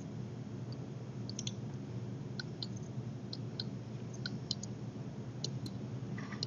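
Computer mouse clicks in engineering software, a scattered series of faint, crisp ticks over a steady low hum with no talking.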